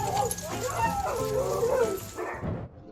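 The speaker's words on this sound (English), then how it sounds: "How would you feel if you were greeted by a pack of dogs like this every time you came home?" Several excited dogs greet their returning owner, yipping, whimpering and barking close by in an overlapping, continuous chorus that fades near the end.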